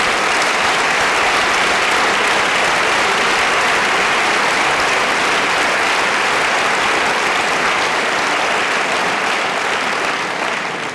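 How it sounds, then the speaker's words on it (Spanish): Loud, sustained applause from a large crowd at a political rally in Fuenlabrada, a dense continuous roar of clapping that holds steady for the whole stretch with no talk over it. "Un gran aplauso para un equipo ganador."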